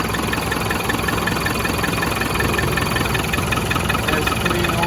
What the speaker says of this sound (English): Engine's running nice and smooth.